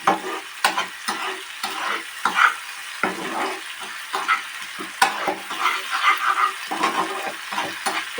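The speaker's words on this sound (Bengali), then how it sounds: "এইভাবে আমি এটাকে বেশ কিছুক্ষণ ধরে কষাতে থাকবো।" Spice mix for a green potato curry being stir-fried in a pan, with a steady sizzle broken by repeated scraping strokes and clacks of a spoon against the metal, close and fairly loud, no talking.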